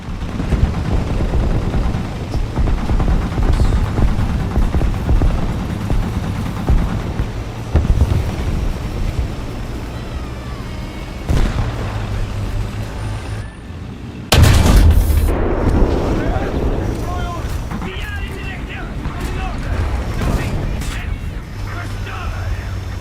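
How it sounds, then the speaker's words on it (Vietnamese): Bombs firing in a video game: repeated booming blasts and rumbling explosions over a dense background din, with a sharp loud burst midway and crackling afterward. "Lắc nó bắn một đống cái bom."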